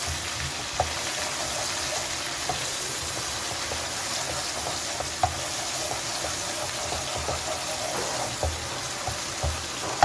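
Whole spices and chilli, among them cloves, cinnamon, black cardamom, black pepper and star anise, frying in a pan for a Kashmiri chicken curry, giving a steady close-up sizzle with small crackles and occasional light clinks.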